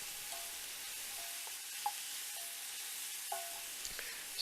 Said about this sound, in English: Saute the mushrooms over medium heat until they're almost dry and the liquids are evaporated